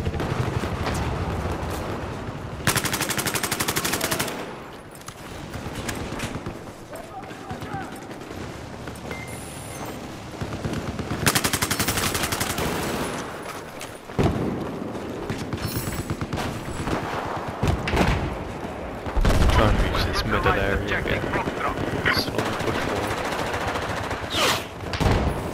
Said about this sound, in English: there's a third guy shooting at me